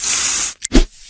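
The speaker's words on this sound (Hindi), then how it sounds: "अब देखिए स्प्रे से हम लोग फंगल को हटाएं" A short, loud hiss of spray sweeps through as a sound effect in a facial treatment animation, then cuts out, followed by a brief whoosh and a soft puff at the end.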